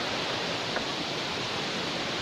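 Shifen Waterfall in Taiwan pours in a steady, broad roar of rushing water, loud and unbroken with no other sounds on top.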